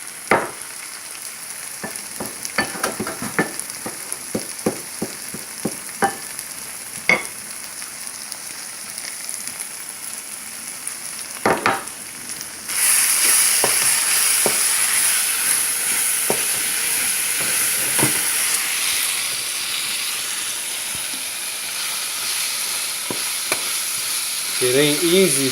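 Blue crab frying in a pan seasoned with salt, MSG and black pepper, cooked without electricity during a 120 km/h rainstorm; scattered crackles and stirring clicks give way midway to a loud, steady sizzling hiss with heavy rain noise.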